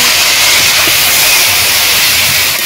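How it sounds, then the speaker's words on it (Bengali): Greens frying in a hot pan with salt and turmeric give a loud, continuous steam hiss that stays steady and close for the whole stretch. "এর ভেতর থেকে কিন্তু সেই বাষ্প বের হবে"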